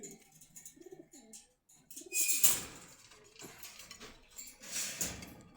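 Pigeons coo softly in repeated warbling phrases at a pigeon market in Meradia Bazar, Khilgaon, Dhaka, broken by brief bursts of hissy clatter and fluttering noise.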